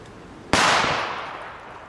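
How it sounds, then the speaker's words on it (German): A single sharp, loud bang from an older Nico D-Böller firecracker, followed by a quick decaying crackle and rumble that fades over about a second, with no talking. "Als erstes der D-Böller."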